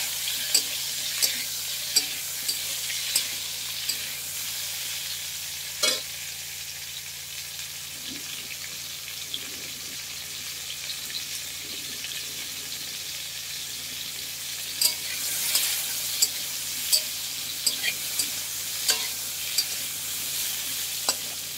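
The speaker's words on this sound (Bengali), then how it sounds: "তারপরে পটল আর আলু কড়ার মধ্যে তেল গরম করে দিয়ে ভালো করে ভাজতে হবে" Pointed gourd and potato fry in hot oil in a wok: a continuous, even sizzle runs throughout, broken by scattered light clicks and spatula knocks that cluster toward the end.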